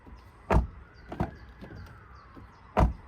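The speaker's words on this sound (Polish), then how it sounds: "Posłuchajmy, jak zamykają się drzwi." Doors of a 2024 Toyota Corolla 1.8 Hybrid shut one after another, three dull thuds with gaps between them, the first and last heavy and solid, the middle one lighter, heard close with a faint outdoor background.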